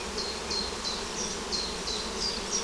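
A swarm of honeybees flies toward a hive outdoors, a dense and continuous buzzing hum with individual bees whining past nearby now and then.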